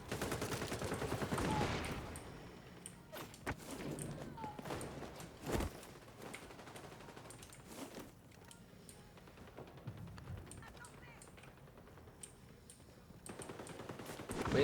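Bursts of rapid gunfire in the shooter game XDefiant, sharp shots clustered early and scattered later, with a loud blast mid-way and quieter stretches between, at moderate distance.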